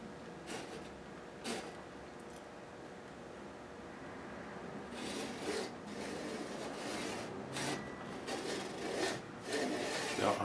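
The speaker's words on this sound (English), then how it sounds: "I have this long blade and this allows me to make that cut very gently." A long blade cuts gently into the dovetail neck joint of a Martin guitar, producing soft intermittent rasping and scraping strokes that grow busier and slightly louder toward the end, quiet and close with no talking.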